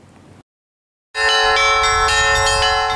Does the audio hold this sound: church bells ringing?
yes